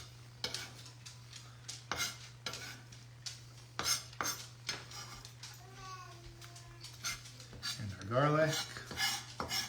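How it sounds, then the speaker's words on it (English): A spoon stirs yogurt sauce with cucumbers and garlic in a bowl, with repeated clinks and scrapes against the bowl. A voice speaks briefly, and a steady low hum runs underneath. "Mix that up."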